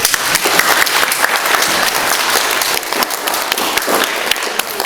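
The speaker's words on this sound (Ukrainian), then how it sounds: "Оплески Господу." A church congregation at a baptism service breaks into dense, steady applause, loud and close, with many hands clapping continuously throughout.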